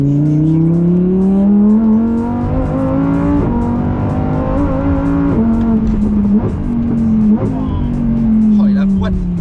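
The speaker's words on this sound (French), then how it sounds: "Écoutez-moi ce V10." Lamborghini Huracan Tecnica V10 engine revving, a loud, close, continuous howl rising and falling through several sweeps of pitch with brief dips between rev climbs, heard alone without talk.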